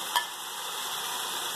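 Finely chopped bell pepper fries in a cast-iron pan, giving a soft, steady sizzle with a single brief stirring clack near the start.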